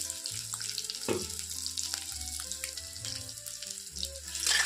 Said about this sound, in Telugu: ఇది వేసుకున్నాను కొంచెం నేను ఆయిల్ వేసుకుంటున్నాను